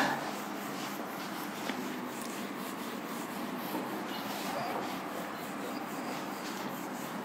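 An eraser rubs writing off a classroom board, a continuous scratchy, brushing friction sound at moderate, even loudness with no talk over it.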